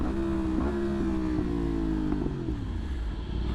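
A motorcycle engine revs with aggressive on-off throttle and a raised rev limiter, sharp steady harmonic tones jumping and dipping in quick bursts, loud and close with no talk.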